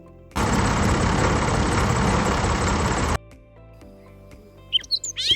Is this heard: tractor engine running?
yes